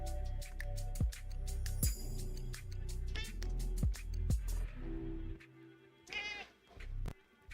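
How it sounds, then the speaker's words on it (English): A pet cat meows a few times, close and fairly loud, over steady low rumbling and clicking from a train simulator game at a night rail yard. "That's my cat Snickers that's in my face right now."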